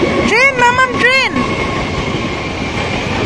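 A train passes a railway level crossing, giving a steady close rumble of rail noise throughout. Voices talk over it during the first second or so.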